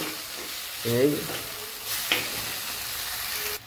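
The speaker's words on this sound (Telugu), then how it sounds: "ఒకసారి దీన్ని ఇలా మొత్తం కలుపుకోవాలి" Tomato and bitter gourd curry mixture stirred in a pan, with a low sizzle and a couple of brief scraping and clinking sounds of the spoon, quiet throughout with no talk.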